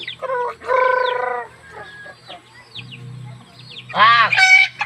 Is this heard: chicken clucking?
yes